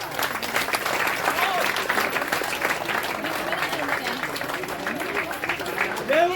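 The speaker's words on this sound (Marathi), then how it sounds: "जोरदार टाळ्या होऊ द्या" Loud, sustained applause from a crowd at a gathering, dense clapping filling the scene while voices call out over it.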